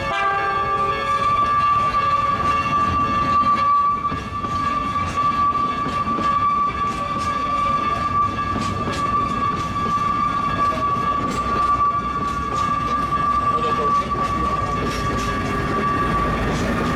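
An Oigawa Railway train pulls into Senzu, the terminal station, with a steady loud rumble of wheels and carriages and a sustained tonal whine running throughout, close by.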